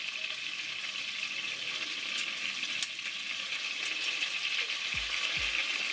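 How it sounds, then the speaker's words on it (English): Butter melting in a pan for butter chicken, a steady close hiss and sizzle running the whole time with faint crackles and a couple of low knocks near the end, with no talking. "So you let this butter melt."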